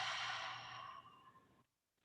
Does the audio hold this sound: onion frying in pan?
no